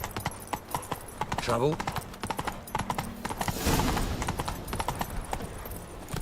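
Roach, the horse in The Witcher 3, gallops with a steady clip-clop of hooves beneath game dialogue and voices, plus a brief whinny-like sweep.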